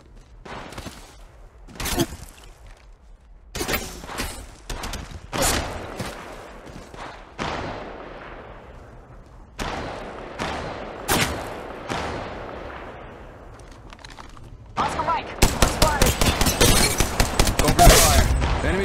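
Sharp, loud gunshots crack out in bursts during an Apex Legends Mobile battle royale match, with scattered single shots early and a rapid automatic volley near the end, sometimes over in-game voice callouts.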